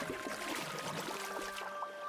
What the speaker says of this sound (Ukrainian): Махнув весельцем, човник і поплив.